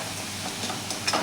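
Salt and turmeric being stirred into a spice paste frying in a pan for potato bhaji, a brief, close spell of soft sizzling with light scraping toward the end.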